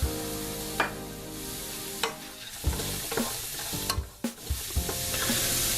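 Cumin and spices sauté in a pan for a potato lentil stew, a soft sizzle broken by several sharp stirring scrapes and knocks of a spoon.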